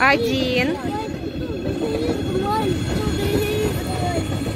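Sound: electric train passing

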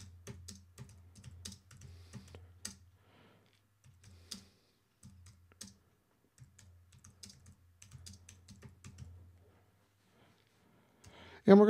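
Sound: typing text on a computer keyboard

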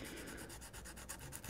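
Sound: sanding guitar frets with 240 grit sandpaper

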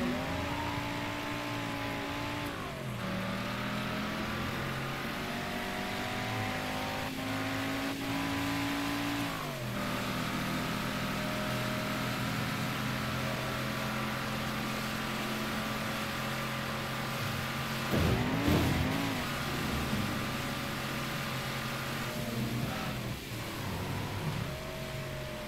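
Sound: car driving and revving in the video game Mafia 3

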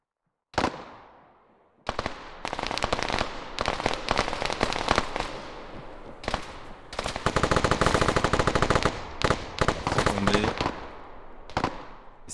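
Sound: gunfire bursts in a capture-the-flag video game

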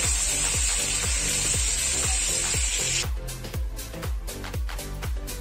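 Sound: vegetables and potato frying with salt in a pan

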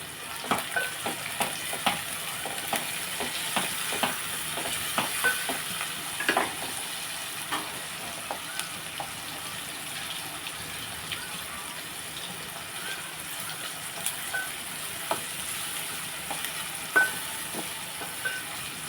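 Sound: tempering frying in pan for brinjal mango curry

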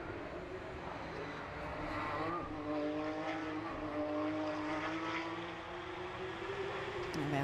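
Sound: Porsche Carrera Cup race cars on the Barcelona circuit

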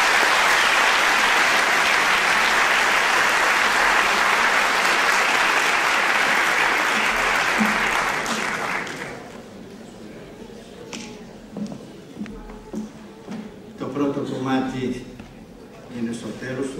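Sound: theatre audience applauding

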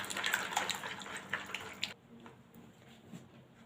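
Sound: whisking egg, milk, oil and butter in a bowl

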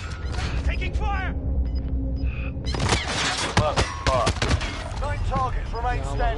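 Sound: gunfire in a video game

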